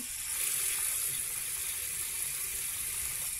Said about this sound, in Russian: Наливаем холодной из-под крана воды.